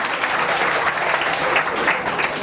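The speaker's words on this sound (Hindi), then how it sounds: "क्या मैं तालियां नहीं बजा सकता इसके लिए?" An audience at a motivational lecture applauds continuously, a dense, loud wash of clapping from many hands that stays steady throughout without any speech over it.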